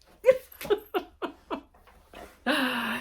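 A puppy dog lets out a quick run of short, close yips and whimpers, then a longer drawn-out whine, with no talk over it.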